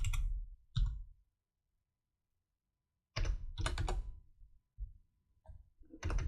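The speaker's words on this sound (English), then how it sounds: "damn, I'm bad at typing" Typing on a computer keyboard comes in short, close bursts of clicky keystrokes separated by pauses of silence, with no talking heard.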